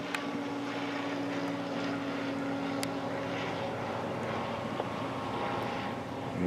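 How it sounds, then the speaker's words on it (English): A propeller airplane drones overhead as a steady, moderately distant engine hum that holds throughout with little change in level, with no talk over it. "You can see the propeller going."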